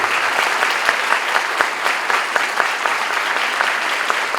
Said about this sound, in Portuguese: a salva de palmas para os nossos palestrantes e para esses meninos aí corajosos